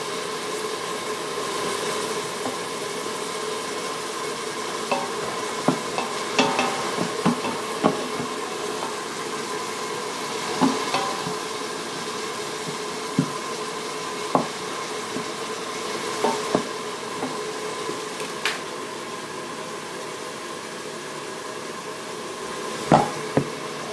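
Onions sizzle steadily in an Instant Pot, a continuous frying hiss with occasional knocks and scrapes from stirring, close and moderately loud, with no talking.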